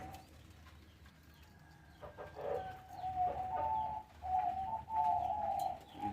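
Breeder pigeon pairs at a bird market coo in soft, repeated throaty calls, rising to a busier stretch of overlapping cooing in the second half, with faint chirps and market ambience beneath and no talk.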